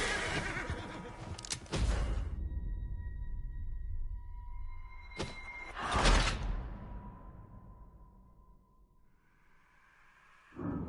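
A horse in the Red Dead Redemption 2 video game gives a few loud neighs and snorting bursts. Sustained tonal game sounds fill the quieter gaps between them.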